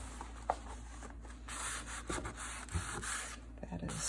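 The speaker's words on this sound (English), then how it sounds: "Let's sandpaper out of the way." Sandpaper rubbing across a concertina sketchbook page, giving a close, continuous scratchy friction with uneven strokes and brief louder scrapes, with no talking.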